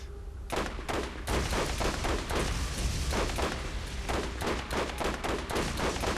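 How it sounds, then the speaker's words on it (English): Rapid, repeated gunfire from an Orion electric sniper rifle in the video game Borderlands, with dense cracking shots and booms coming in quick bursts and filling the whole stretch loudly. "I have an Orion sniper rifle, which is obviously it ricochets and shoots electric"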